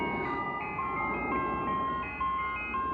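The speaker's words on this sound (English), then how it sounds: "The second ice cream truck is not turkey in the straw, just the first one." An ice cream truck's jingle plays steadily, a bright electronic melody repeating in a looping tune, moderately loud and a little distant, with no voices.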